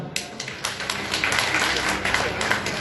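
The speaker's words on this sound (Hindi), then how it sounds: "तो हम चाहेंगे आप सभी से जोरदार तालियां हो।" A crowd at a film awards ceremony applauds steadily throughout, dense clapping with some scattered louder claps, fairly close and continuous.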